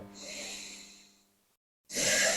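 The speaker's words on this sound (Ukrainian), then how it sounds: "Починаємо дихати декілька циклів дихання" Slow, deep breaths with a long airy exhale fading to silence, then a strong, noisy inhale starts; close and steady, no talking.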